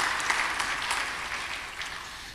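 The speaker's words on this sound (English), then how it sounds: "Give her a round of applause for all the hard work she did to put this together." A luncheon audience at an architects' sustainable urban development event applauds in a steady, fairly loud round of dense clapping, with a few distinct claps standing out, sustained throughout.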